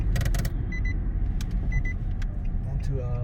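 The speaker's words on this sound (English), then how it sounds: "I'm gonna accelerate up to 40, and then I'm gonna bring it down to" A car accelerating on a road during a brake test drive after new pads and rotors were installed, heard as a steady close cabin rumble with brief clicks and a person talking over it.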